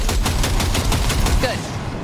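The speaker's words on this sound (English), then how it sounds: "Next target. Single shot." Rapid gunfire from a weapon in the video game Cyberpunk 2077 crackles in a steady run of close, loud reports, with a brief thin whine near the end.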